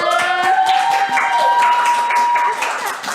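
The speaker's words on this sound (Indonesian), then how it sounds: "boleh beri tepuk tangannya" An audience applauds at a university podcast recording, with dense, steady clapping for about three seconds and a sustained musical tone ringing over it.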